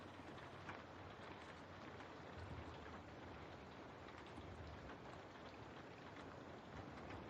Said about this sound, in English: Oh, the rain noises, Sika?